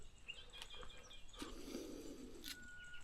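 A wild bird calls faintly near a bush campsite in Lane Poole, giving a few short chirps and a longer whistled note against quiet outdoor background.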